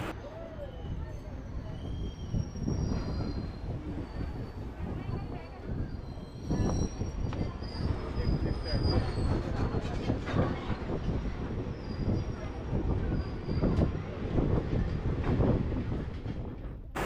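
Santragachi–Puri Sri Jagannath Express running in India between Belda Junction and Jaleswar, with a steady loud rumble of wheels on rails, rhythmic clatter and occasional squeal carrying on throughout.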